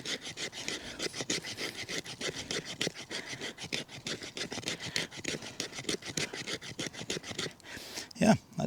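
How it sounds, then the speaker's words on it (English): Knife blade rasping repeatedly along a fatwood feather stick, curling off fine fuzz for tinder; a steady run of close, dense scraping strokes throughout, with no talking. "I am going to try and see if I can't get some fuzz off of the feather stick"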